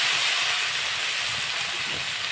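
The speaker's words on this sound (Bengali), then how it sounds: "আমি এর মধ্যে এখন সেদ্ধ করা এঁচড়টা ঢেলে দিলাম।" Boiled jackfruit tipped into hot oil and fried spice masala, giving a steady, loud, hissing sizzle that fills the whole moment with no talking.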